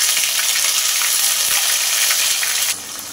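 Whole garam masala, bay leaves and cumin frying in hot oil with ginger-chili paste, a loud dense sizzle with stirring, dropping slightly quieter near the end; no talking.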